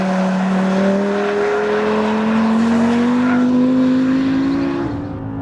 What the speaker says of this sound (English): Something I'm not used to in a car is that it revs out so high.